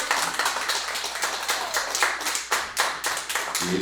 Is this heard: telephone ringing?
no